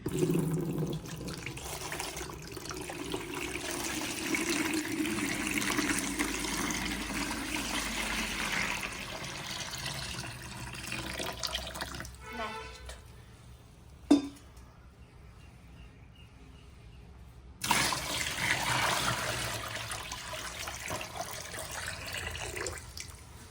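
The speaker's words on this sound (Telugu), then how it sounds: "ఇప్పుడు నీళ్లు పోసుకుందామండి" Water pours and splashes steadily into a vessel for a home immersion of a clay Ganesh idol, pausing briefly with a small clink, then pouring resumes; close up, no voices.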